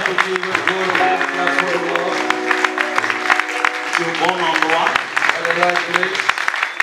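A church congregation claps steadily while a voice speaks and music or singing tones sound over the applause.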